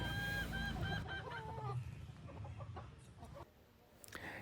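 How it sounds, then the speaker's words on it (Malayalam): A small backyard flock of three roosters and four hens, including frizzle chickens, cluck and call close by, with a few sharper squawks and rustling around them, no talking. "ഇതിലൊരു മൂന്ന് പൂവനും നാല് പിടയുമാണുള്ളത്"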